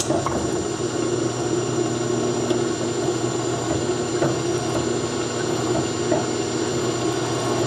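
Spot drill cutting into metal on a machine, setting up a 1/4-28 tapped hole for a homemade tap wrench, a steady loud mechanical whir with constant tonal hum running without break throughout.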